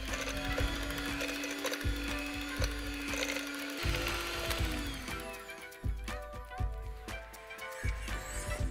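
Electric beater whirring through butter for ajwain cookie dough, a steady mechanical hum with rattling, clicking beats and occasional pitch shifts as the mixer works, fairly quiet and without speech.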